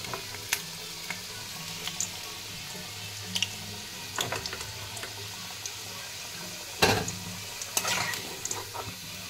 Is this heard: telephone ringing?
no